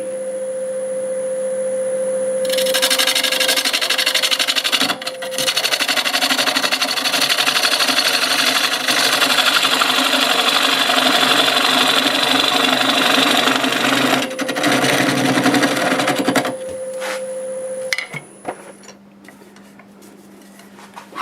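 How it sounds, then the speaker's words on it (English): Cherry wood spinning on a wood lathe as a half-inch bowl gouge flattens the surface, a loud steady whirring drone with a rapid rhythmic chatter of cutting, briefly interrupted, before the machine winds down near the end. "1/2 inch bowl gouge just to flatten this out."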